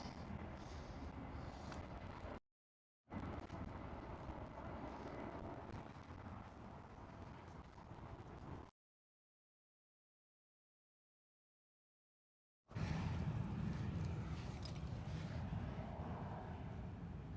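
EasyJet airliner taking off at Schiphol, Amsterdam: a broad, loud jet roar with wind noise, interrupted by brief gaps and a long silence before the engine rush returns strongly.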